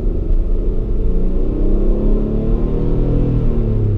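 An all-wheel-drive V6 family car accelerates hard, its engine rising in a loud, close, rumbling growl with climbing pitch over a few seconds.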